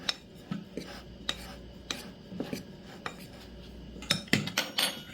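Sesame ball batter of sugar, eggs, baking powder, a pinch of baking soda and salt being mixed in a bowl, with quiet scraping and irregular light clinks of a utensil against the bowl, close and fairly soft.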